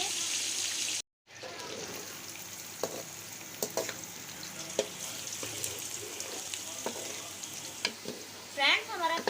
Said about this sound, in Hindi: हमारा ऑयल गर्म हो चुका है। अब हमने इसके अंदर प्याज भी ऐड कर लिया।